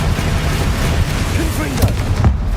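Confringo and Bombarda spell blasts in the Hogwarts Legacy video game boom and rumble loudly in quick succession amid dense, busy game noise.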